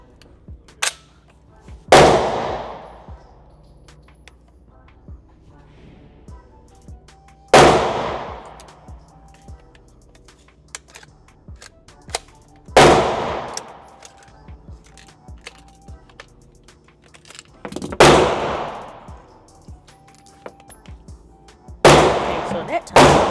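An MP5 clone fired at a shooting range: five loud, sharp single shots spaced about five seconds apart, each ringing out with a short echoing tail over a quiet background.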